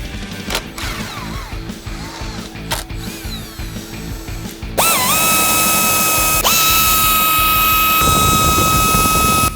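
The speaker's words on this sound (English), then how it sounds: "You're gonna need a T40 bit and you're gonna need a T20 bit to remove the screws on the plastic in here." Power drill with a Torx bit removing plastic trim screws inside a 2015-2018 Mustang, a loud close whirring ratchet that jumps to a steady high-pitched spin partway through.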